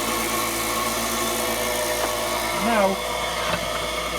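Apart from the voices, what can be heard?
wood lathe spinning at 4,000 RPM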